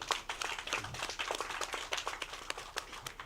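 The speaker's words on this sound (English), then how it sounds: "How about a round of applause, ladies and gentlemen?" Audience applause at a pageant event, scattered individual claps coming through at a moderate distance, fairly faint and uneven over a few seconds.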